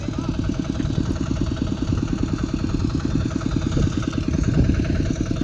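A two-wheel hand tractor runs in a rice paddy, its small engine giving a close, even, rapid thumping putter that continues without a break, with faint voices in the background.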